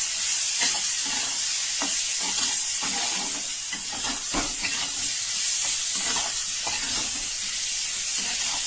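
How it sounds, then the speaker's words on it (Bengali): Tender young ridge gourd stir-fries with turmeric, salt, ginger and a pinch of sugar, hissing in a loud, even sizzle with regular scraping strokes of the spatula. "স্বাদ মতো লবণ দিয়ে ভালো করে কষিয়ে নিচ্ছি"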